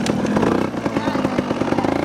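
A Beta EVO 80 Jr youth trials bike revs hard in first gear close by. The buzzy, high-pitched engine note winds out quickly while voices talk over it.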